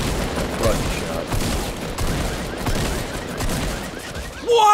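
Video game gunfire rattles in dense, continuous bursts of rapid shots at moderate loudness throughout, with a sharper burst right at the end.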